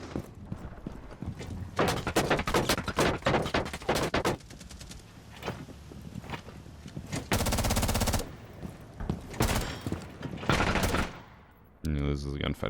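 Gunfire in a video game gunfight, rapid loud bursts of automatic shots in clusters with brief pauses, with a voice talking over parts of the exchange.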